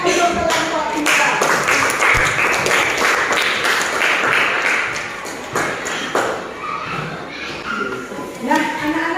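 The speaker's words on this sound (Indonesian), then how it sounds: "Kita berikan tepuk tangan untuk kelompok 2" A classroom full of students applauds a presenting group during a teacher's practice lesson, with dense, fairly loud clapping that carries on for several seconds before gradually thinning, while some voices and movement run underneath.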